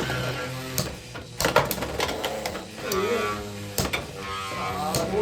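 Beyblade X spinning tops battling in a stadium during a three-on-three match, with rapid clattering clicks and sharp metallic impacts over a whirring spin, close and busy throughout.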